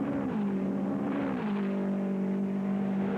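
1972 Indy 500 race cars accelerating toward the first turn, a loud sustained engine drone whose pitch dips and then holds steady, like a close pack of open-wheel cars at full throttle, with no talk.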